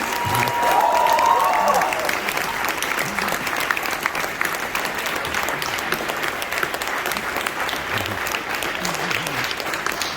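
Audience applause after a nadhaswaram performance at an interview event, a dense, loud burst of clapping that swells early and holds steady, with a voice briefly audible over it.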